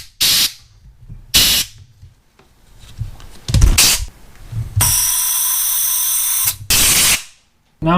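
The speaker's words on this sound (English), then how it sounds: "Now, compressed air through each individual hole." Compressed air blasts through the small holes of a Yamaha XJ650 Turbo motorcycle carburetor in short loud hissing bursts, one longer sustained blow with a whistling tone, close up and without talking.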